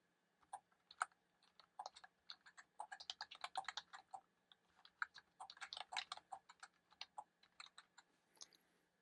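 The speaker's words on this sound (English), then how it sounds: "So I've typed a couple lines on here." Typing on a Sablute KM41pro wireless keyboard, with a steady patter of quiet, close key clicks in uneven bursts and brief pauses, and no voices.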